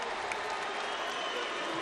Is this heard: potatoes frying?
no